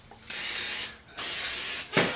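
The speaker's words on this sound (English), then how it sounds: "just spray a little more on top" Cooking spray hisses from a can onto panko-crusted salmon in two steady bursts and a shorter third one, close and fairly quiet, with no talk over it.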